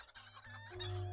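A chicken in the video game Lord of the Rings Online clucks and crows in a brief run of tonal calls, faint and rising toward the end, with no voices.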